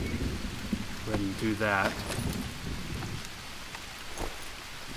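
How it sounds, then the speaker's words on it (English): Rain falls steadily in the jungle of the Green Hell video game, a constant hiss with a brief tonal rustle, while someone talks quietly over it. "It's raining"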